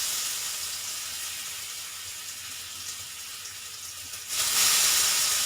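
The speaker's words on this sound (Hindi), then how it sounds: "अब वो तेल गरम हो गए हैं, इसमें मैं डाल दी हूँ।" Banana pieces fry in hot oil, a steady sizzling hiss heard up close that swells louder and brighter near the end, with no voices.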